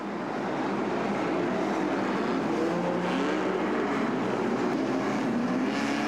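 A pack of about thirty race cars in a figure-of-8 stadium race at a world championship, heard as a dense, steady engine roar from several cars together, loud and unbroken with no voices.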